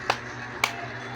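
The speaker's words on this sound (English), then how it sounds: "Let's give ourselves 2 claps." A school class claps twice together in a classroom, two sharp, crisp claps about half a second apart over a quiet background hum.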